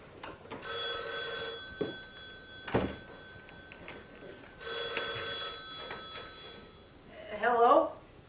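An old-style telephone bell rings twice in long, evenly spaced bursts in the middle of the night, fairly faint against a quiet room. A voice follows briefly at the end.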